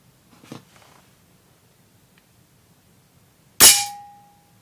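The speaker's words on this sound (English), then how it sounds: "And the last shot." A single sharp air rifle shot cracks out during chronograph testing, loud and close with a quick ringing decay, after a soft faint knock earlier.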